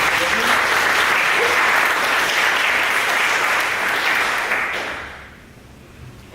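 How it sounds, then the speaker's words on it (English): Conference attendees give a loud, full round of applause for speaker Piotr after a talk on motherboards, BSDs and coreboot, sustained for about five seconds, then fading quickly with a voice speaking as it dies away. "Give another round of applause."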